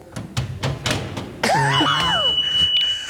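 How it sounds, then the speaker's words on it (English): An alarm going off inside the Tomatin whisky distillery in Scotland: a steady, piercing electronic tone cuts in sharply and holds for over a second amid reverberant clatter, following a few short knocking thuds. "The alarm was just comedic timing there."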